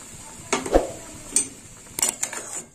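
A spoon stirs drumstick-flower sour curry in a cooking pot, producing a few close, separate clinks and scrapes against the metal over a quiet background.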